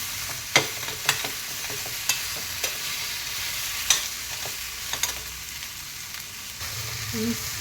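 Ginger and cashews fry in a pan for a paneer dish, a steady oily sizzle broken by sharp scraping clicks of a spoon stirring at irregular intervals, close and moderately loud with no talk.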